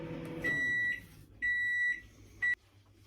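A microwave oven beeps three times, two long tones and a short final one, fairly quiet and close with no talking.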